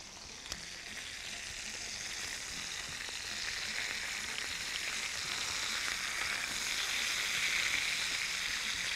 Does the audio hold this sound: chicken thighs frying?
yes